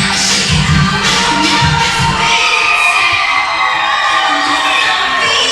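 A wrestling event crowd screams and shouts loudly, a dense wall of high-pitched voices with a few bursts of deeper yelling early on.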